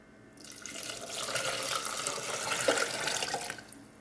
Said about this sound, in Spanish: Y aquí le voy a echar las 3 tazas de agua de coco con su pulpa